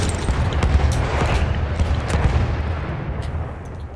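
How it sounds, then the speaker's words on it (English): An artillery strike in a multiplayer shooter video game, a rumbling wash of deep explosions and crackling blasts rolling on for several seconds, loud and dense before thinning out near the end. "Enemy coordinates have been sent to our artillery"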